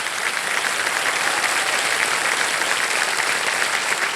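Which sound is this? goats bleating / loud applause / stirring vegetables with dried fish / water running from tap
loud applause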